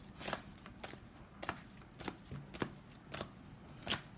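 Tarot cards being shuffled by hand, a series of about seven crisp riffling bursts spaced roughly half a second apart, close and fairly quiet with no talking.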